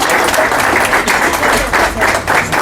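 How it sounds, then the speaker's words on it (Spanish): An audience at a political gathering applauds the president with loud, close clapping that swells and dips in uneven waves, some claps falling into a loose shared rhythm. "Un aplauso para el presidente."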